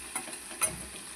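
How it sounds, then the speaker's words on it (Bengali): Potatoes frying in a pan with turmeric and salt give a soft, even sizzle, with two brief stirring scrapes standing out over the quiet crackle. "প্রায় আমি 10 মিনিট মতো ভেজে নেব"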